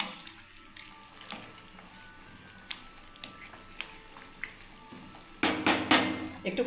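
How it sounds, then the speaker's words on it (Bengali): Mango chutney bubbling in a pan, a soft sizzle with sparse pops and small clicks, then a louder burst of scraping and clattering against the pan near the end. "বন্ধুরা আমের চাটনিটা ফুটছে"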